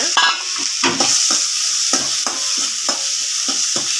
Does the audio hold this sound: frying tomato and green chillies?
yes